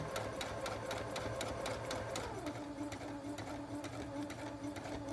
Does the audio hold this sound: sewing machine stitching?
yes